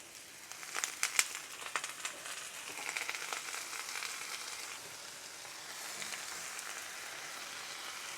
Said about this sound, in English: Turn my heat down to medium right now, just because I don't want to burn the shallots